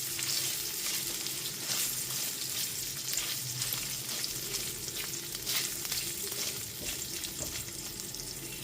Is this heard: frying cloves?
yes